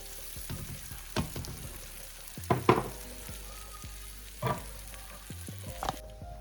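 Buttered pulled pork quesadilla cooking in a pan, with a quiet steady sizzle throughout and a few louder clatters and scrapes of a spatula against the pan.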